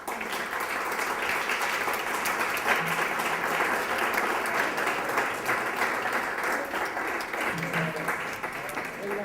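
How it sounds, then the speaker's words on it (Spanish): An audience in a philosophy lecture hall gives the doctor dense, sustained applause that stays loud and steady from start to finish, with no pauses. "El doctor se merece estos y más aplausos"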